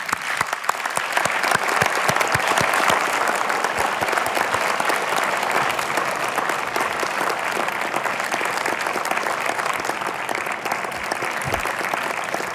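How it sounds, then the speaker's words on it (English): Graduates at a university convocation ceremony give a sustained round of applause, dense and steady clapping from a large seated audience that continues throughout. "give a round of applause to our parents and loved ones"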